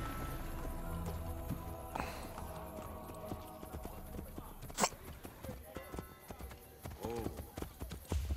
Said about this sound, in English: There just had to be someone walking by on a horse